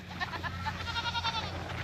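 Goats on a farm bleat as they are let out, several wavering calls overlapping in quick succession at close range.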